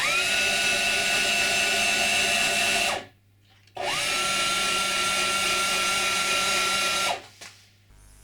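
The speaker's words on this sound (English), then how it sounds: "The router lift is controlled by these two buttons for up and downward motion." Motorized router lift on an automated router table running in two bursts of a few seconds each, a close, steady high motor whine that cuts off sharply between runs.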